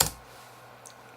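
A single sharp keystroke clicks on a computer keyboard while working in AutoCAD, close and crisp, followed by a faint, softer tap shortly after in an otherwise quiet room.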